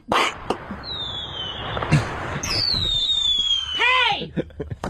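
Fireworks go off in several sharp cracks, with whistling rockets sliding in pitch between the bursts. The bangs come in an uneven run, close and loud.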